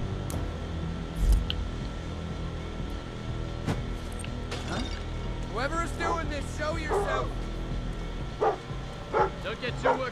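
Dogs bark and yip in the stealth video game Thief, scattered bursts of barking in the middle and near the end over a low game ambience, with a person talking at times.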